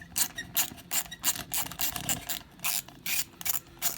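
A ratchet wrench clicks in rapid bursts while undoing an oil cooler bolt on a 1987 Honda CBR600F motorcycle, the close, sharp ratcheting repeating in short rhythmic runs with brief pauses between strokes.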